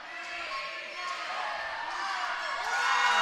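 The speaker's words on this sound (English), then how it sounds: "The crowd cheers. They are excited for their home team." Home fans cheer and shout as a futsal match ends, a dense crowd roar at an indoor arena that stays loud and swells steadily toward the close.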